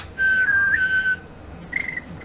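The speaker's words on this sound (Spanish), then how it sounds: "Esto es un silbido también, ¿eh?" A person whistles by mouth: one sustained, steady note of about a second, followed by a shorter, wavering higher whistle, close and clear in a quiet room.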